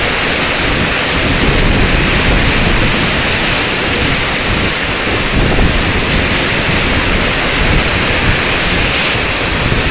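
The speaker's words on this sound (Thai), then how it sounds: "ฝนตกมากอะ" Heavy rain pours down in a dense, continuous roar, loud and close throughout with no voices, like water drumming hard on surfaces.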